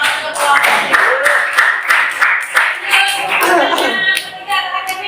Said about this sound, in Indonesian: kita kasih tepuk tangan kelompok